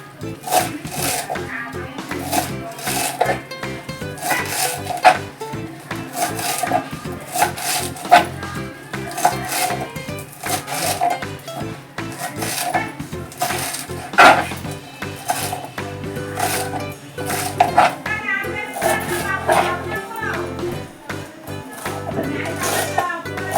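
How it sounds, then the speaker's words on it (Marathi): A knife chops fresh coriander on a board in steady, rapid taps that continue throughout, with faint background music underneath. "आता आपण कोथिंबीर कापून घेऊया."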